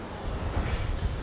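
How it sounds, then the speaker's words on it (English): An accelerating Humvee engine rumbles loudly and steadily, a deep continuous roar that holds throughout without pause. "It's a Humvee accelerating."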